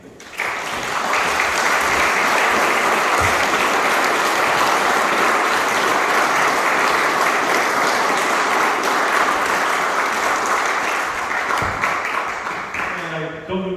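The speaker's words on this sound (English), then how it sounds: "let's give a round of applause for the candidate" Audience at a local candidates' meeting applauds for a candidate, steady dense clapping that stays loud for over ten seconds and then tapers off.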